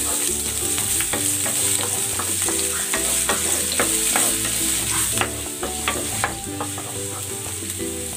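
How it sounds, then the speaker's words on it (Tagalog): Chopped ginger sautéing in oil in a pan, a steady loud sizzle with repeated sharp scraping and stirring clicks throughout, no voices. "Magigisa na ako ng luya."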